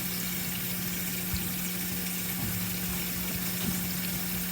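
Apples are rinsed under a running kitchen tap, giving a steady, even hiss of flowing water with a faint hum beneath it and small splashes, close by and without talk.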